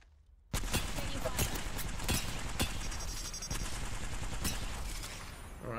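Rapid automatic gunfire from an Apex Legends match rattles loud and close in continuous bursts after a brief quiet start, with sharp repeated shots punctuating the stream.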